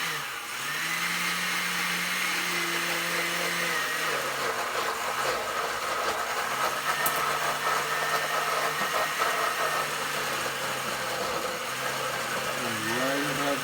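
A food processor pureeing basil leaves, garlic and almonds for homemade pesto, a steady loud motor whir running throughout, its pitch wavering near the end.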